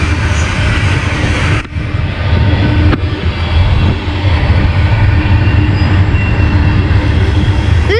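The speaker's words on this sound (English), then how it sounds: "This train is very long" A very long freight train with distributed power units passes close by at Halethorpe Amtrak station in Maryland, a loud, sustained rumble and rattle of wagons running steadily throughout with no voices.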